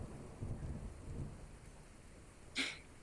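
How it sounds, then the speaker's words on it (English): A thunderstorm with steady rain and low, faint rumbling, heard alone without voices, ending with a brief brighter burst near the close. "as the storm rumbles around them"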